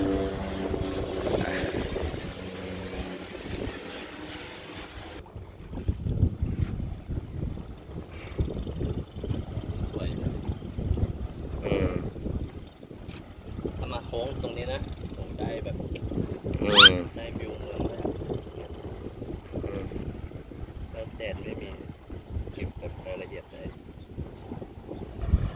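A boat powered by a Yamaha 300-horsepower outboard maneuvers near a pontoon dock. Low engine rumble and water noise rise and fall beneath heavy wind buffeting across the microphone, with one sharp high-pitched burst midway.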